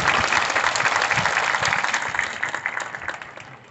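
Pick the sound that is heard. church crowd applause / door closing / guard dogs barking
church crowd applause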